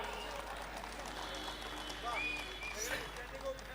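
An audience at a Hindi comedy poetry gathering claps in a dense, steady wash that runs throughout, with a voice sounding over it.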